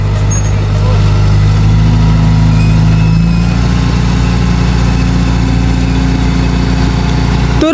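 A heavy bulldozer, wheel loader or excavator engine runs loud and close, its steady low rumble rising into a rev about midway, with an operator being called to over it.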